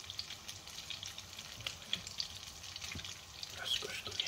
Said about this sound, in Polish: O, następna się smaży.